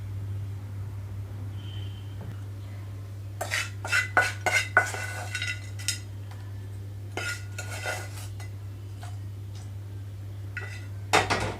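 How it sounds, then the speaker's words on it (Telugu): A spoon stirs tempering into peanut chutney in a bowl, giving scattered clinks and scrapes in short bursts over a steady low hum. "ఇప్పుడు ఇందులోకి తాలింపు కలిపేస్తున్నాను."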